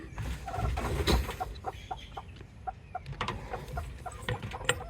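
A hen clucks around her clutch of eggs in a rural yard, making a series of short, soft, evenly spaced clucks with some rustling and background noise.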